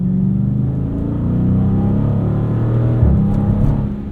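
A 2019 widebody Dodge Challenger R/T Scat Pack drives along, its V8 giving a steady deep rumble inside the cabin, with a brief shift in engine note near the end and no talk.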